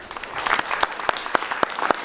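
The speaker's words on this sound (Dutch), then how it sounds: "hartelijk applaus te geven" An audience gives warm applause for children and their gurus at a Saraswati arts show, a moderate crowd clapping steadily with a few sharp, louder claps standing out nearby.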